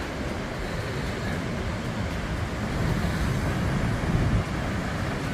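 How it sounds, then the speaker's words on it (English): Ocean surf breaks on a beach with a constant, loud roar, and gusty wind buffets the microphone. The wash swells stronger toward the end. "Geez, waves have gone up here."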